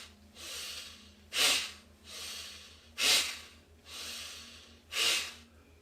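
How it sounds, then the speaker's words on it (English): Deep pranayama breathwork, slow rhythmic breathing close to the mic: three long soft inhales, each followed by a sharper, louder exhale through the nose, with no talking. "Inhale."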